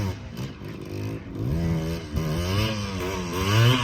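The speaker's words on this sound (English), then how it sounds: "Corey's got these wheelies down on this Tri-Z 3-wheeler." Tri-Z three-wheeler engine revving in rising and falling bursts during wheelies, a raspy two-stroke whine climbing in pitch, fairly close and loud.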